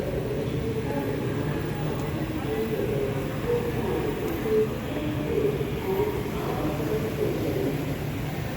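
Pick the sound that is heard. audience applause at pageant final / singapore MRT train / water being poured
singapore MRT train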